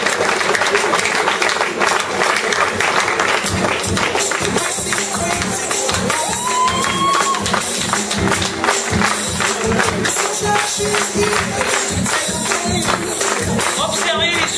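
Audience applause at a public meeting in Bayargues as campaign list members gather on stage, dense steady clapping with scattered taps lasting throughout, loud and close, with voices and crowd noise mixed in.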